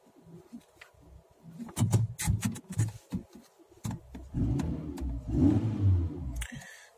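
The engine of a Ford car, just started with its original key, revs up in a few rising surges over clicks and knocks, then settles into a loud steady run.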